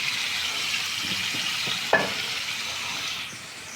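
Fried meat goes into a spice masala that has been cooked down until the oil separates, producing a steady sizzle with scraping stir strokes and one sharp clack of a utensil midway; no talking.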